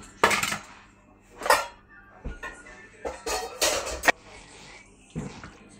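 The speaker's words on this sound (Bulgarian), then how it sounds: "Разбъркваме много добре." A spoon stirring ricotta with walnuts, garlic and roasted red pepper in a bowl, making several sharp clinks and scrapes against the dish in an uneven rhythm, close up.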